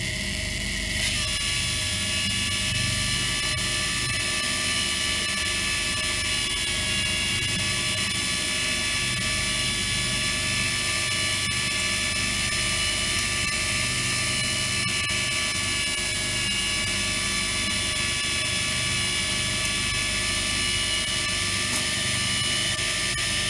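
A small motor drives a 3-way floor drain valve, rotating it from fat separator to drain while cams trip micro switches; a steady high whine with a low hum runs continuously throughout at close range, with no talking.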